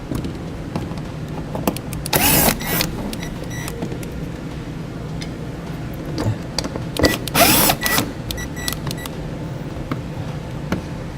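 A power drill backs T25 Torx screws out of the driver's side fender well of a 2015 Ford Fiesta, in several short whirring bursts with quiet pauses and faint clinks between them.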